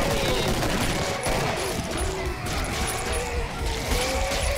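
Rapid continuous gunfire rattles from the video game Killing Floor, dense overlapping automatic shots with crashing impacts, loud and sustained throughout.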